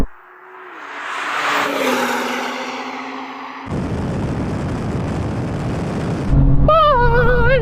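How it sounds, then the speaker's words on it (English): At a drag race launch a car spins its wheels, a rising engine roar giving way to a harsh broadband rush of tyre noise, then a higher whine joins near the end, loud and close. "No, too much wheel spin."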